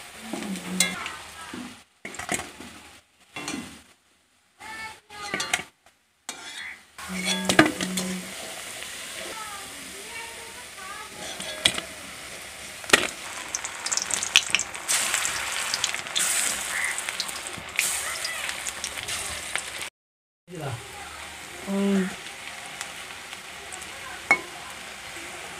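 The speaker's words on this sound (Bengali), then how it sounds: "দেখো মা কীরকম পেঁয়াজ বড়াগুলো ভাজছে, একদম মুচমুচিয়ে লাল লাল করে ভাজা" Onion fritters (peyaji) deep-frying in hot oil until crisp, a steady close sizzle and bubbling with utensil stirring and clinks, interrupted by brief cuts and pauses.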